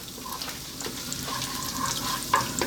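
Dried chilies, a cinnamon stick and cumin seeds sizzle steadily in hot oil, a continuous soft crackle with scattered sharper pops and one louder spit near the end, with no voices.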